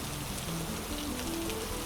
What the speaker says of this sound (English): The rain outside began to fall harder